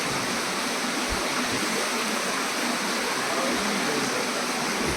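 The clear mountain stream at Kumaradhara Tirtham in Tirumala rushes and splashes in a loud, unbroken roar close at hand.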